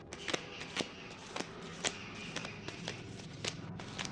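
Tarot cards being shuffled by hand, with a steady run of crisp riffling snaps and flutters up close, about two a second, and no talking.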